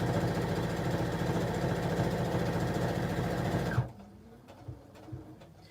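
A sewing machine stitches a quilted cell phone pouch, a loud steady whirring run that stops abruptly near the end, followed by a few soft handling clicks.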